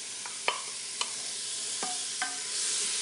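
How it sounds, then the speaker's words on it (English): Ground beef and onion sear in a pressure cooker with a constant loud hiss of sizzling, while a utensil scrapes and knocks against the pot a few times as the food is stirred. "Now the sear function is pretty aggressive, so we've got to really keep stirring."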